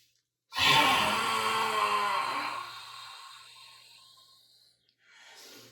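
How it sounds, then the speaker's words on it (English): A forceful lion's breath yoga exhale pushed out through the open mouth, a single long breathy rush that starts loud and slowly fades over several seconds, followed by a brief softer breath at the end. "you're going to inhale and exhale like a lion out through your mouth"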